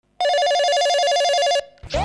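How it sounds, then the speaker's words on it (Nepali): A telephone rings with a loud, warbling electronic tone in one continuous burst of about a second and a half, then stops as a voice begins speaking. "सर फोन आयो"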